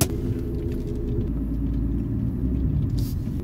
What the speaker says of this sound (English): Moving the car.